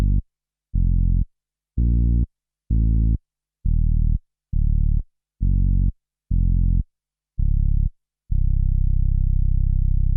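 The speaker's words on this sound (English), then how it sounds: "that is the sound of your traditional electronic organ bass sounds" Deep organ bass notes from a Hammond XPK130G MIDI pedalboard in its default voice, played as about nine short separate notes in an even stepping rhythm, then one longer held note at the end, clear and alone.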